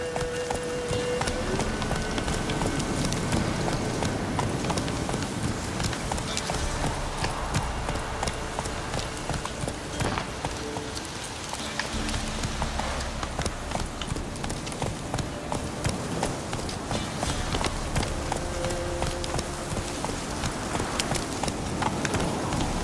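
Roach, a horse in The Witcher 3, gallops with rapid rhythmic hoofbeats that run continuously and loudly for the whole stretch, mixed with game ambience and no talk.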